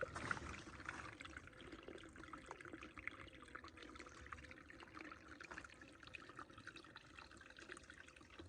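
A small stream trickles and burbles continuously in green hiking country on the Pacific Crest Trail, a steady close splashing wash with no voices.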